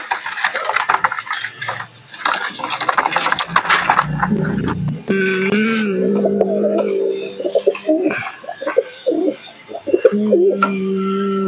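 Pigeons in a keeper's loft where birds are being sold, including a red Zeria cock, give low, repeated throaty coos close by, with soft scraping and rustling and no talking.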